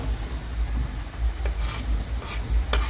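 Chopped onions frying in about five tablespoons of hot oil for veg momo stuffing, giving a steady close sizzle with a few faint scrapes and ticks and no voices.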